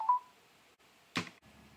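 A Samsung Galaxy S10 keypad, used through Link to Windows, plays a short dialing tone, then a brief noisy burst follows amid near silence.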